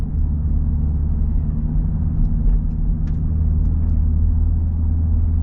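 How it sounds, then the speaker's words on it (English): Supercharged V8 of a Dodge Durango Hellcat rumbling steadily from inside the cabin, a loud, deep, continuous drone with no talking over it. "Got that nice deep V8 sound. A little bit of supercharger whine."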